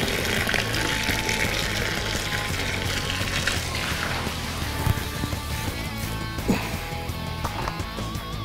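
Cran-tropical cranberry juice pours steadily into a Christmas punch with an unbroken liquid splash and gurgle, fairly loud and continuous from start to finish.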